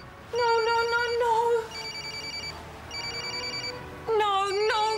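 A telephone rings in repeated electronic bursts during a TV drama scene, loud and close, with short pauses between rings.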